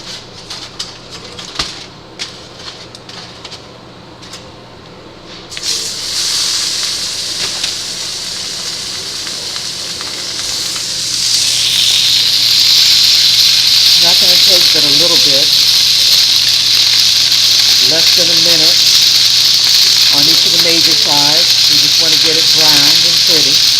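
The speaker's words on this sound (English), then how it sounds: "Now we're getting ready to sear it." A wagyu tri-tip, just out of the oven at 118 degrees, sears on a hot surface with a loud, steady, close hiss that swells and holds. Fan noise runs underneath, and a voice speaks briefly early on.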